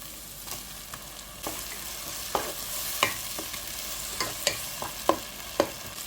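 Chopped tomatoes frying with onions in a pan, a soft steady sizzle broken by repeated scraping stirs and clicks of the spoon against the pan, close and alone with no talking.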